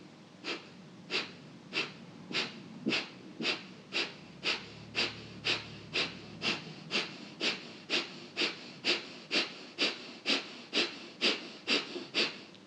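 Kapalabhati breathing: about two dozen sharp, forceful nasal exhalations in a steady, even rhythm, each a short breathy snort, close and clear.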